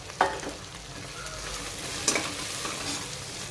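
Thickly chopped onions tossed into a hot frying pan with green chilies, a sharp sizzle burst and scrape at the start, then a continuous close frying hiss with a second stirring clatter midway, no voices.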